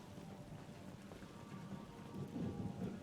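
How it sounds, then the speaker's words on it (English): Steady rain patters with low rumbling thunder in Mass Effect 2 remastered, a soft continuous wash that swells slightly toward the end, with no voices. "Rain was one of the improvements to the remaster."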